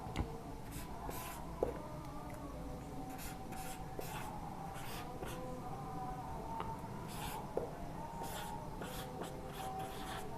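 Pen or pencil scratching numbers by hand on paper for a decimals lesson, steady bursts of close writing strokes and light scrapes, with no talking.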